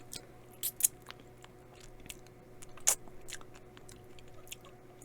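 BHC Gold King fried chicken spread with cream cheese is bitten and chewed close up: a few sharp, crisp crunches and softer chewing over a low, steady background hum.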